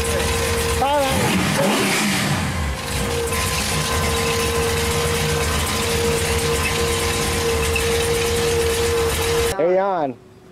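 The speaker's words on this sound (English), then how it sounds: "Okay, this is the motor. 500 horsepower. 502." A 502 big-block Chevy V8 rated around 500 horsepower in a farm truck revs loudly at first, then holds a steady throbbing idle, with a final sharp rev blip near the end.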